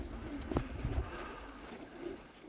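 Black białolot pigeons gathered at a feeding spot, with soft cooing and brief wing flutters at moderate distance over a steady outdoor background.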